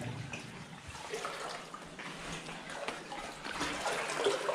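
Water flows through an underground mine tunnel, a continuous splashing, burbling rush with small surges, fairly close and steady throughout, without speech.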